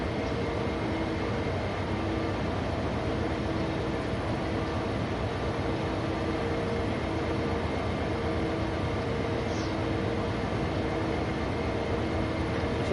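Freight train hauling tank cars up Sherman Hill in Wyoming, in a train simulator: a steady, unbroken rumble of locomotive and rolling wagons with constant level throughout, no breaks or talk.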